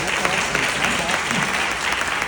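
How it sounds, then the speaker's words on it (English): An audience at a church gathering bursts into dense, continuous applause that holds steady and fairly loud throughout, with voices mixed into the clapping. "go ahead and clap that foot."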